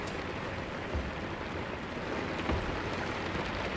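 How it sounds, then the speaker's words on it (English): Heavy rain falls outside as a faint, steady patter and hiss in the background, with a couple of soft thuds and no voices. "the rain is crazy over here at the moment"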